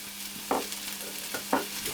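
Ratatouille vegetables frying in a pan on lower heat, with a soft, steady sizzle and two or three brief stirring scrapes, close and fairly quiet.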